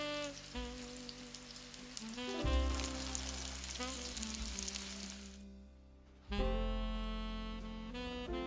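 Lunch frying on a stove at a lakeside terrace in a house under renovation, a steady close sizzle under a bright tonal hum, dropping out briefly near the end before returning.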